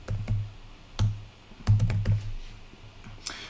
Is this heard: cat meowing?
no